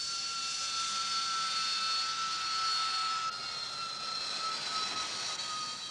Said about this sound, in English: The Harrier jets are fully armed with guns, rockets, and anti-personnel cluster bombs.